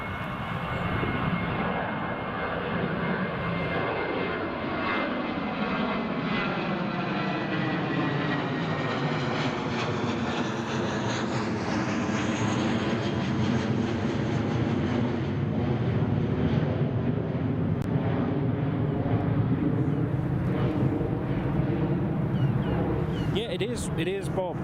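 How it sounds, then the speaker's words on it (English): A British Airways airliner roars loudly on its takeoff run at Newcastle Airport, a sustained rising jet engine rumble with a sweeping whine, and people talk over it throughout. "There you go, that's a British Airways up."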